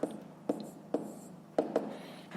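Numbers are handwritten with a pen or chalk during a fifth-grade math exercise: a series of sharp, close tapping strokes at irregular intervals, roughly five or six in quick succession, over a quiet room hum.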